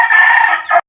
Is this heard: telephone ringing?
no